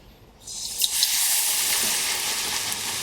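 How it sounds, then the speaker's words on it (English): Battered aubergine slices dropped into hot oil for crispy fritters, setting off a steady, bright sizzle that swells after a quieter start and holds close and loud with no talk. "dip the aubergine in the batter, shake off the excess, and then put it in the oil"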